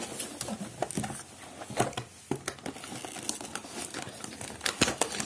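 Cardboard and plastic packaging rustle, crinkle and tap while an MSI B550-A PRO AM4 ATX motherboard box is handled and opened up close, in irregular bursts of crackling and soft knocks with short pauses between.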